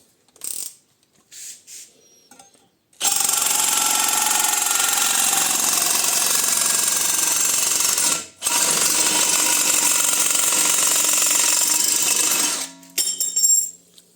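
Non-standard power-driven metal shears cut through sheet metal with a loud, continuous grinding mechanical roar, interrupted once by a brief pause, with a few quieter clicks and handling noises before and after.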